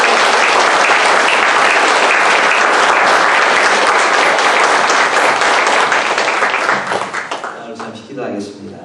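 Church congregation at an evening service giving a loud, sustained round of applause for the arriving pastor, dense clapping that tapers off near the end as a voice begins to speak.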